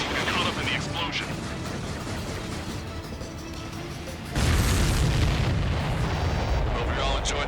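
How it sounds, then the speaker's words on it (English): A loud, rumbling explosion in Ace Combat 7: Skies Unknown, a dense roar of booms and blasts that swells even heavier partway through and keeps thundering to the end. "You got caught up in the explosion."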